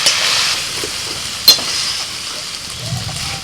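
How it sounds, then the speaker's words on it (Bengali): Malabar spinach (pui shak) vegetables frying in a pan, giving a close, steady sizzling hiss with a single sharp utensil clink partway through. "এই পুঁই শাকের সবজি না একটু ভালো করে ভাজবেন সময় নিয়ে"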